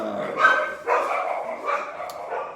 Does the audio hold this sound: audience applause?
no